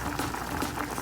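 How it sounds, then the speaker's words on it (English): Water boils in a cooking pot while making jollof rice, giving a steady, close bubbling and rolling churn with no pauses. "it's boiling"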